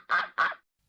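A duck quacks twice in quick succession, two short, nasal, honking calls at close range, followed by silence.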